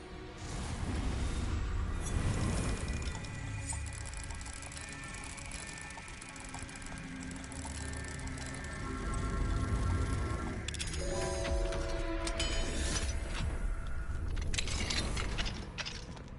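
In Hogwarts Legacy, the Alohomora spell works a lock open. Mechanical clicking and ratcheting run under a magical shimmer and game ambience, ending in a clatter as the mechanism gives way.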